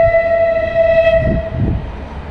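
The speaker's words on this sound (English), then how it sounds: "That's the train behind me." A train passes close by, its horn sounding a loud sustained chord tone for about a second before fading, with rumbling rail noise underneath throughout.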